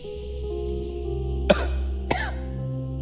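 A person gives two sharp, distinct coughs about half a second apart, loud and close, over a steady low hum with no talking.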